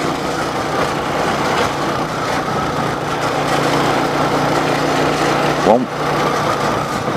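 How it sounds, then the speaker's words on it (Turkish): A motorcycle engine rattles and drones steadily while riding through Ayvalık, with a brief clunk near the end. "Bu sesler bizim motordan mı geliyor?"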